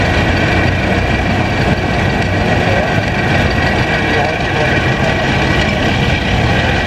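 A John Deere Model L tractor engine runs steadily throughout, pulling a John Deere Model L spreader at an outdoor tractor club show in Grand Valley, Ontario, with a constant loud low rumble and broadband noise and no break.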